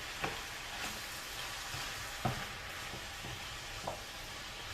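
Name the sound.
veggies frying in a pan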